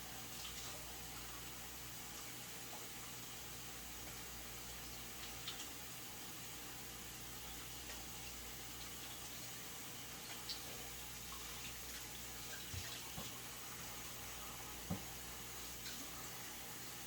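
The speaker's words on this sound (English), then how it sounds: "I was always taught you should sing happy birthday while washing your hands" Hands are washed under a running kitchen tap. The water makes a faint, steady hiss that carries on unbroken for the whole stretch, with a few small splashes and clinks.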